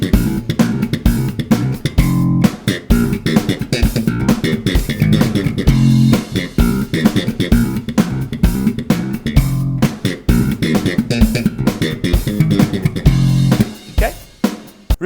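Thrash-funk slap bass riff at about 130 beats per minute, pops and thumps in fast busy rhythm full of percussive ghost notes, loud and continuous for the whole stretch with no voices.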